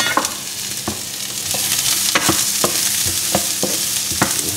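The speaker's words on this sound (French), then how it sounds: "Vous faites revenir votre chorizo" Chorizo with onions and crushed garlic sautéing in a pan for a Mexican-inspired roast chicken, a loud close sizzle punctuated by regular spatula scrapes and knocks against the pan.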